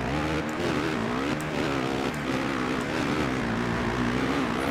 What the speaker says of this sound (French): Juste derrière, j'entends la respiration de son moteur